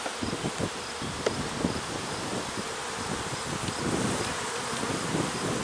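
A dense, continuous buzz of many honey bees swarming around a crowded hive, steady and droning, with light rustling and occasional closer wingbeats passing by.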